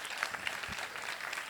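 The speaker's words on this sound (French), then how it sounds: "je demande d'applaudir très fort l'équipe de Lour-Escale" An audience at a Xeltu school games event in Koungheul applauds the Lour-Escale school team, a brief, moderately loud burst of dense clapping.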